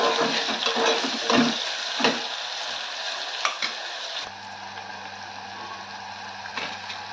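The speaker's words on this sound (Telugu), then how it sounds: "ఉల్లిపాయలు నూనెలో బాగా వేగాలండి" Sliced onions frying in oil in a pan make a dense, close sizzle with stirring scrapes for the first few seconds, then the sound drops to a quieter crackle over a low steady hum.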